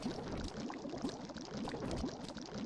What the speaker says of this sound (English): I think I hear a bubbling pot.